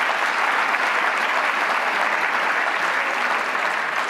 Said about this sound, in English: let's give a round of applause to all these people, would you?